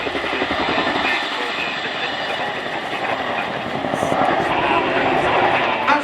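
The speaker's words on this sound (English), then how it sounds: "As the aircraft transitions away into forward flight, the Chinook will now reposition to provide overwatch for the troops on the ground" Boeing Chinook HC5 twin-rotor helicopter at an air show, a loud steady rotor throb and turbine roar that swells slightly as it moves into forward flight, continuous throughout with a commentator talking over it on loudspeakers.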